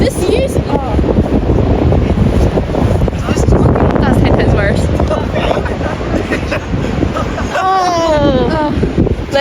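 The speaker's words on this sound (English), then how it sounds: "Okay, it's a bit windy." Wind blows at a beach and buffets the microphone with a constant, loud roar. People talk over it throughout.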